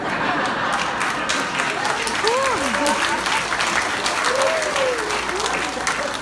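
A hall full of mourners applauds at the eulogy for the late Congressman Roilo Golez, a thick, even wash of clapping that holds at full strength throughout, with faint voices mixed in.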